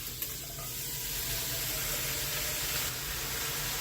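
Water poured from a cup into a cooking pot holding browned beef, bacon and onions, a steady close splashing pour with a soft sizzle underneath, no talk.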